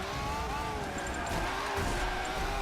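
Race car tires sliding and skidding in Forza Motorsport 7, a steady roar of engines with a thin tire squeal running through it, close and continuous for a couple of seconds in a pack of cars including a Lamborghini and Ferrari.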